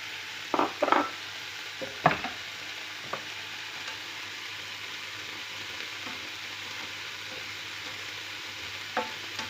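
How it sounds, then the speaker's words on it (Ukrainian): Button mushrooms sizzle and fry in a pan with onion and carrot, a steady close crackle with a few stirring scrapes near the start. "І зараз я сюди додавлю наші печериці."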